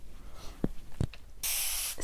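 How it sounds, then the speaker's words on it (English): A continuous mist spray bottle sprays water onto natural curly hair, with a few short hissy puffs followed by a sustained, steady spray, close and fairly loud. "I'm just going to spray down and make sure that my hair is dripping wet"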